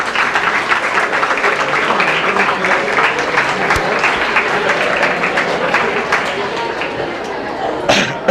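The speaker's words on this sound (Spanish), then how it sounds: "Ahora sí les pido un aplauso para ellos." Loud, close applause from an audience at a talk on medicine markets and policy, a thick continuous patter of many clapping hands lasting several seconds with a few sharper claps standing out and some voices mixed in.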